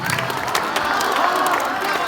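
A live audience at a humorous Hindi recitation cheers and calls out "wah wah" in a dense, continuous wash of shouts and clapping, with no single voice standing out.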